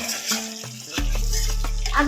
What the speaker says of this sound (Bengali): এই যে আলু তেলে ভাসছে আর এখানে মশলা কি হচ্ছে এটা নাড়াচাড়া হচ্ছে